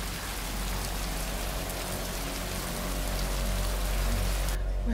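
Heavy rain pours steadily in a dense, unbroken hiss that swells slightly toward the end and then drops away sharply at the close; no voices are heard.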